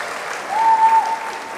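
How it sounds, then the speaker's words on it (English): An audience at a nursing college ceremony applauds honorees, a steady, dense wash of clapping from many hands in a large room, with a faint tonal hum running beneath it. "Let's give them all a big round of applause."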